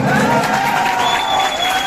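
A Sambalpuri Day audience breaks into loud, sustained applause and cheering, a dense crowd roar that stays at an even level.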